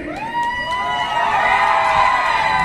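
Excited audience at a lively stage event in Dhenkanal, cheering, whooping and clapping in a steady, loud wash of crowd noise with high shouts rising over it.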